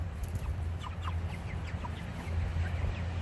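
Chickens cluck and murmur nearby in a run of short, scattered calls over a low outdoor hum.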